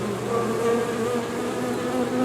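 Honeybees buzz loudly at the entrance of an old wooden hive box, a dense, continuous drone from constant activity, close and steady with no talking.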